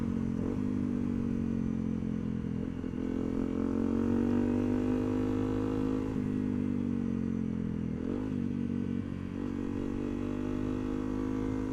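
A Honda CRF250L dual-sport motorcycle rides along a country route, its engine droning steadily and loudly throughout with slight rises and dips in pitch as it shifts and accelerates, with no talk over it.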